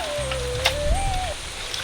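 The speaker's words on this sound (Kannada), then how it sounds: "ಈಗ ಹಾಗೆ ಬತ್ತ ಮಳೆ ಬಂದತ್ತಾ" Rain falls steadily in a village setting, a soft even patter close by with a faint high tone drifting over it and a brief thump partway through.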